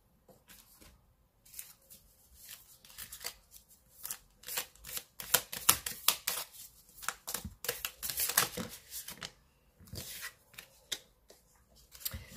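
Oracle cards being shuffled and drawn by hand, a close run of quick riffling bursts and soft card slaps, crisp but quiet, with no talking.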